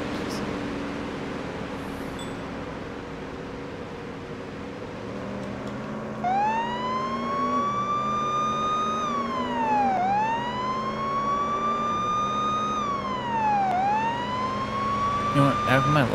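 A police car siren in the video game Police Simulator wails in long rising and falling sweeps, starting partway through and holding loud to the end over a low engine hum and background noise.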